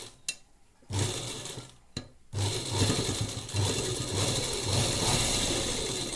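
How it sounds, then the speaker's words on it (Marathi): Sewing machine stitching across a folded fabric edge with lace tucked inside, a steady whirring run after a few brief starts, close and loud with no talking. "वरून आता आपल्याला पुन्हा शिलाई मारून घ्यायची आहे"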